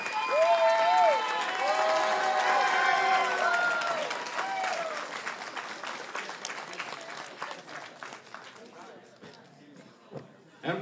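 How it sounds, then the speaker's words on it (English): Audience at a powerlifting finals at the Arnold Sports Festival claps for the lifters, dense applause with cheers and whoops that stays loud for several seconds, then thins into scattered claps as it dies away. "give them one more round of applause"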